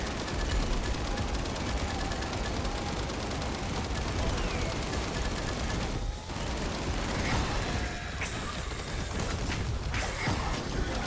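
Dense, continuous gunfire from a video game in which the player fires revolvers on max difficulty, a loud, unbroken rattle of rapid shots with a brief dip near the middle, then the barrage resumes.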